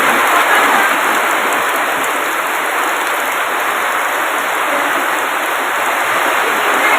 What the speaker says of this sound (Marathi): नुसतं वाजलेला पावसाचा आवाज आला